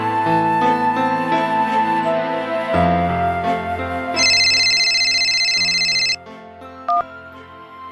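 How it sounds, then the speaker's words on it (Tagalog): A telephone rings partway through a call, its bright electronic trill repeating over steady musical tones for about two seconds, then cutting off, with no talking. "Tinawagan ko siya via drop call ng mga oras na yon."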